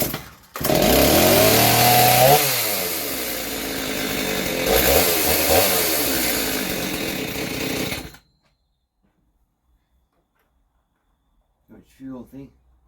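A Stihl MS290 chainsaw engine after a carburettor rebuild roars loudly and steadily for about eight seconds, rising and falling as the throttle is blipped, then cuts out to silence before brief talk near the end.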